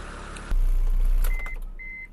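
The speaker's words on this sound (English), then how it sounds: "And there it is, guys, the engine has started." A 2002 Proton Waja being restored starts up, and its engine settles into a steady, low idle. Faint beeps follow as the rumble eases slightly.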